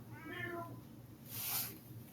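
A kitten meows a few times at close range, soft and drawn out, with a quiet room hum and no talking over it.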